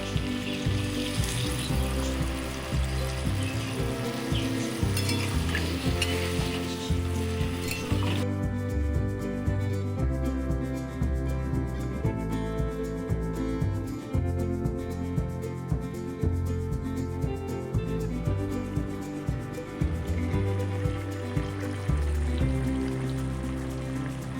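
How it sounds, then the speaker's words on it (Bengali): Water is poured into a pan of vegetarian papaya chhokka curry with boiled chickpeas, cooked without onion or garlic. Loud, steady sizzling runs throughout, and the frying sound changes sharply partway through. "পরিমাণ মতন জল দিচ্ছি"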